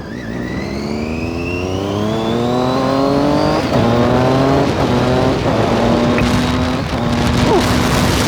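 A Triumph Daytona 675 sport motorcycle revs and shifts through gears while riding, its rising pitch climbing steadily, loud and close, with several drops between gear changes.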